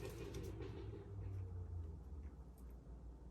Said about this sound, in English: what is that? Is that a moto? Or a car that is just making so much noise for fucking nothing.